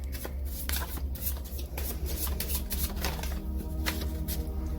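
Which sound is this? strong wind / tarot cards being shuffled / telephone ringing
tarot cards being shuffled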